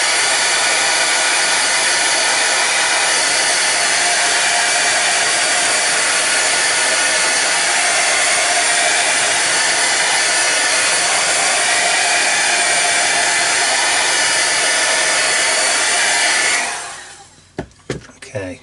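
A hair dryer blows steadily and loudly for about sixteen seconds to dry a watercolour painting of an autumn leaves still life, then switches off, leaving a few faint handling knocks.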